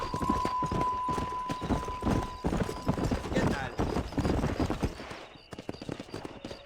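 Horse hooves clip-clopping in Red Dead Redemption, a steady galloping rhythm close up with a brief whinny, under in-game voices talking.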